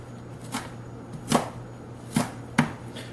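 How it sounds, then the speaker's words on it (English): A knife rock-chops food on a cutting board, likely salsa ingredients: four separate sharp thuds spaced unevenly over a steady low background hum, close and clear, with no voices. "you can come off to the side and you can rock chop it"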